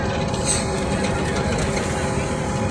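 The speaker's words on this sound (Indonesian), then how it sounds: "Kereta api listrik dari Jakabaring" An LRT electric train runs in Palembang on the line from Jakabaring to the airport, making a loud, steady broadband rumble and rolling noise throughout with slight rhythmic clatter.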